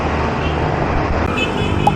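Heavy road traffic passing near a 7-Eleven during a Laguna loop bike ride, a steady dense roar of cars and buses with a faint horn toot near the end.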